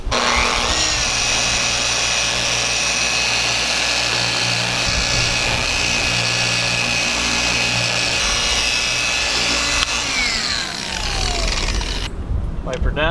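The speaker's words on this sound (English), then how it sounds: "I'll be using a wool pad on the Rupes Bigfoot polisher" A Rupes Bigfoot polisher fitted with a wool pad works coarse compound into car paint, giving a steady, loud motor whir with a constant hum, then cutting out abruptly near the end.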